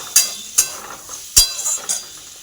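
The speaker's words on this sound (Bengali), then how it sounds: "একদিকে দুধ গরম বসিয়েছি একদিকে কুদরি ভাজা চলছে" Ivy gourd (kundri) frying in a pan at home while being stirred, with sharp metallic clinks of the utensil against the pan at irregular intervals over a faint background sizzle.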